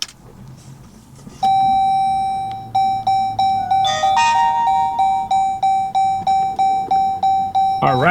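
A Mangoal dash camera in a Jeep Grand Cherokee gives its startup sound as the car is turned on. One long electronic tone is followed by a melodic chime and then a fast series of repeating beeps, loud and close.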